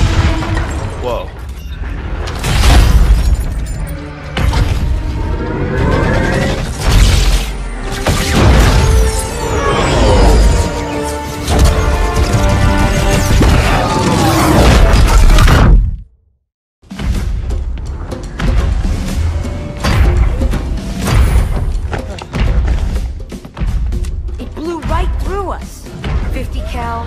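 Rocket explosions and heavy combat from Halo 2 Anniversary: loud booms, blasts and thuds pile up densely along with voices and score, cut by a brief silent gap near the middle, then more explosive impacts and clatter.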